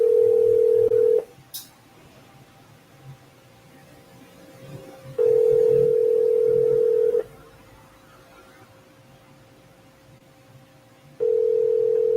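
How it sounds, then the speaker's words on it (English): A telephone ringback tone on a live call purrs in loud, steady bursts of about two seconds, separated by roughly four-second gaps, with faint background noise in between and no talking. "I'm gonna go ahead and answer the phone right now."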